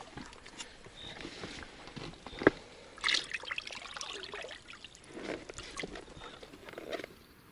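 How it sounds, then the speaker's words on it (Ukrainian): Water trickles and splashes while being scooped into a bag for holding caught crucian carp, close, irregular pouring and patter in short bursts at a fishing spot. "ми зараз в цю сумочку наберемо водички"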